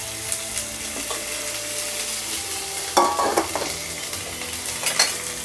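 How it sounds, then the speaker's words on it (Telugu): Boiled vegetables and capsicum for veg fried rice fry in a pan, a loud, continuous sizzle with a few bursts of scraping as they are stirred, with no talk. "ఇలాగే లైట్ గా దీన్ని ఫ్రై చేసుకోవాలి।"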